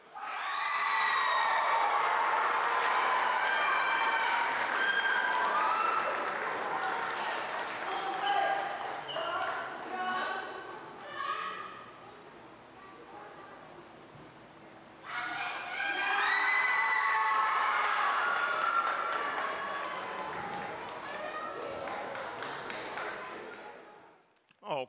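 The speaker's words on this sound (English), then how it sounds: "if y'all can please give the biggest applause to Alyssa" An audience at a high school summer music showcase applauds, cheers and whoops loudly, a sustained roar that dips briefly in the middle before swelling again and stopping abruptly.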